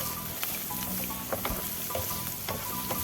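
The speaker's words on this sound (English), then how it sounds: "Saute on medium flame." Chopped onion sautés in a little hot oil in a pan over a medium flame, giving a continuous crackling sizzle with scattered pops and light scraping, close up and without speech.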